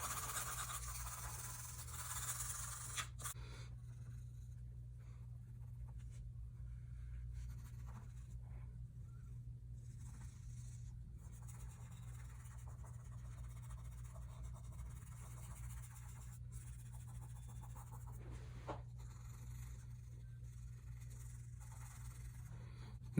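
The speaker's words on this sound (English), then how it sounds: "Now this is my ebony pencil." An ebony pencil shades on paper with light pressure, soft close scratchy strokes repeating steadily over a low background hum, with no speech.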